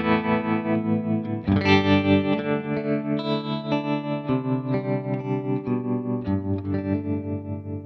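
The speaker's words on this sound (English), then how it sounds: "And what I'm going to do is to load in a tremolo." Electric guitar played through an Axe-FX 3 with a tremolo effect, sustained chords pulsing in a steady, rapid volume wobble with a few chord changes, loud and alone.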